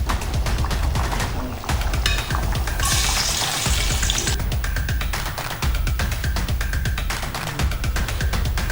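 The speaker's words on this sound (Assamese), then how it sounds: "পিঁয়াজখিনি এনেদৰে ঘিত ভাজি ল'ব" Onions frying in ghee in a pan while a king-size meat polow is being prepared, giving a steady close sizzle with scattered crackles and clinks throughout, and a brief louder hiss partway through.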